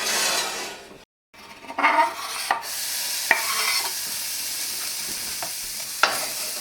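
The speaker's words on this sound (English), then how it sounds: "on medium heat, we're going to cook our garlic." Garlic sautés in oil in a pan on medium heat, a bright, steady sizzle broken by a brief silent gap and punctuated by the scrape and tap of a utensil stirring close by.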